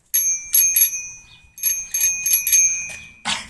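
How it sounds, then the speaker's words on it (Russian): A bicycle bell with a swivel mirror, fitted to a cheap supermarket bike, rings in several bursts of bright, quick dings, close and loud, with no talking. "Мы установили тебе самое главное. Это же звон."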